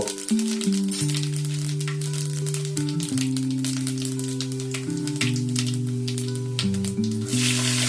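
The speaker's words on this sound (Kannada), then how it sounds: "ಸಾಸಿವೆ ಚಟಪಟ ಅಂದಮೇಲೆ ಸೋಂಪುಗಳನ್ನು ಸೇರಿಸ್ಕೋಬೇಕು" Mustard and fennel seeds fry in hot oil, a dense crackling sizzle close by, with a loud tonal hum shifting pitch in steps running underneath throughout.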